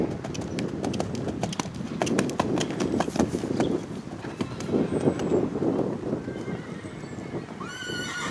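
Horse hooves clip-clop in a steady rhythm at a rainy Irish show jumping event, with whinnies and neighs breaking through and a faint voice briefly in the background.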